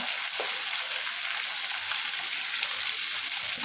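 Garlic cloves fry in hot oil for a garlic pickle, giving a steady, close, even sizzle that holds at one level with no break and no voices.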